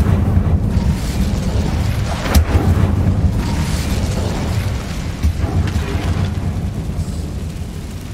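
Incendio fire spell cast in Hogwarts Legacy: a deep, rumbling burst of flame with a sharp crack midway and a second lighter pop later, sustained low roar throughout, loud and close with no talk.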